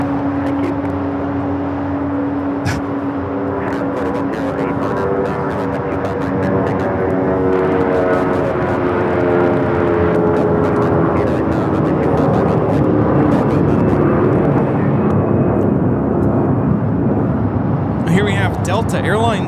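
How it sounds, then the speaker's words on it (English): Delta Airlines Airbus A319 jet taking off at Los Angeles airport, bound for Dallas-Fort Worth: a loud, sustained engine roar with rising whine tones that swells steadily, with people talking over it. "Delta Airlines 521 taking off to Dallas-Fort Worth on the A319"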